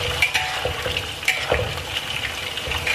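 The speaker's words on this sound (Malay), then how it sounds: "memang kita kena goreng kacang ni" Peanuts frying in a pan over medium heat, a steady close crackle and hiss with soft scraping and light clinks now and then, no voices.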